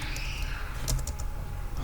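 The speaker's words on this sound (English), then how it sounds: "I will start typing." Fingers type on a computer keyboard, a short run of quick, light key clicks heard close up over a low background hum.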